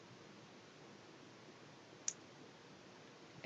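A single sharp mouse click sounds once over a quiet background hiss, restoring a page revision in Canvas, followed by another faint click at the very end.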